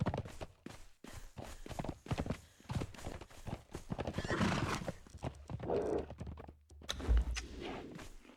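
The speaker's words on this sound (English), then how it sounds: "There's the horses on the bridge?" Horses clip-clop across a bridge in the video game Conan Exiles, a run of close, rhythmic hoof knocks with a whinny partway through and a low rumble near the end.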